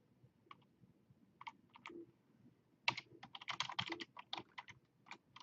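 Code is typed on a computer keyboard in sparse clicks at first, then a quicker burst of close, crisp keystrokes in irregular rhythm, with no talk over it.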